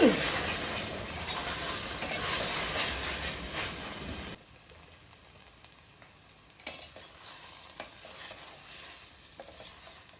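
Spice paste made of mixed ground masalas fries and sizzles in a pan, a loud steady hiss for the first four seconds, then quieter crackling with occasional scraping stirs.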